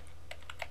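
Quick taps on a computer keyboard while a folder name is typed, about four or five light clicks in under a second, close and quiet.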